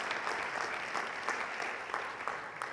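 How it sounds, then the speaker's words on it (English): Applause from a church congregation honoring the staff, a steady dense patter of many hands clapping throughout at moderate loudness, with no speech over it. "could you give our staff a big round of applause?"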